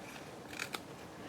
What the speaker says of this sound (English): We'll just snip it with scissors.